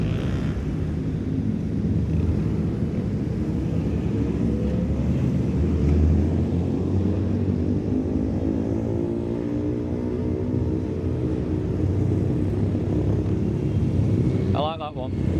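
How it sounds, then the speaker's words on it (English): Many motorcycles ride past on a charity toy run in Stoke-on-Trent, a continuous loud rumble of engines passing nearby with wind buffeting, while someone talks over it. "There's a lot of bikes."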